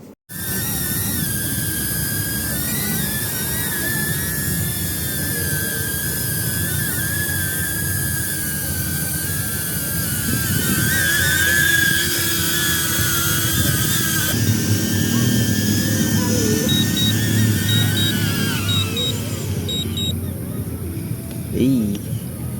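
A DJI Neo drone fitted with LED lights flies at night, its high whining propellers holding a steady pitch that wavers and shifts as it moves. Voices talk over it and nearby sounds come and go.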